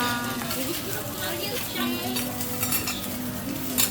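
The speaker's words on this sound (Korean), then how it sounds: "랍스터랑 새우가 구워집니다" Lobster and shrimp grill on a hot cooking surface in a Macau restaurant, with a continuous close sizzle, utensils scraping and clinking, and faint voices in the background.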